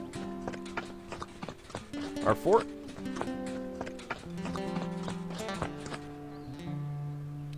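Hooves clip-clop from horses walking in the Expeditions: Conquistador video game, a steady rhythmic clatter mixed with game music and effects, under someone speaking.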